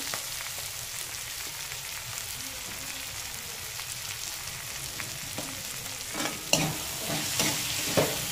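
Spice masala with Kashmiri red chili powder frying in oil for ghugni, a steady soft sizzle with intermittent scraping stirs of a spoon against the pan growing sharper toward the end.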